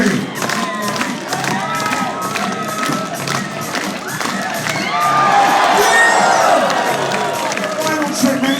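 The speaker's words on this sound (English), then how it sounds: "get those claps going" Crowd at a pogo-stick stunt show at the PNE Fair cheers and shouts continuously, a dense, loud wall of voices and whoops that swells toward the end, with an announcer talking over it.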